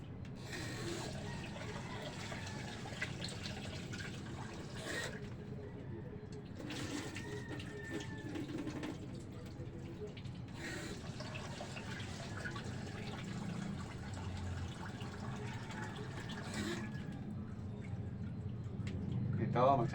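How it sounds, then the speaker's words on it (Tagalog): Rice being washed in water gives soft, quiet sloshing and trickling close by, with a few brief louder splashes as the grains are stirred. "Hugasan ko muna yung bigas"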